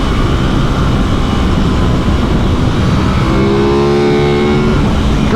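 An Aprilia RS660 sportsbike pulls hard in third gear on an open road, its engine note rising steadily and loud under constant wind rush, with the pitch climbing clearly toward the end.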